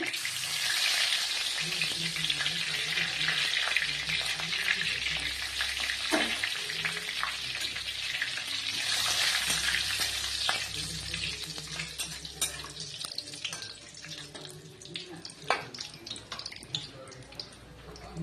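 Dried red chillies and bay leaves frying in hot oil, a steady close crackling sizzle with stirring and scraping throughout; faint talk occasionally surfaces.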